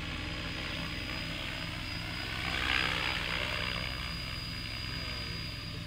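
A Graupner Hawk 18 RC model helicopter's whining rotor and motor hum steadily nearby, swelling briefly louder midway as it levels and climbs, with no talking.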